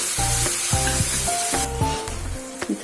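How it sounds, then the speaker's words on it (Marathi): Onion and peanuts frying in oil make a bright, steady hiss, while a pulsing low tonal hum repeats in short bursts underneath. "थोडा लालसर होईपर्यंत कांदा पण छान कलसवून घेते"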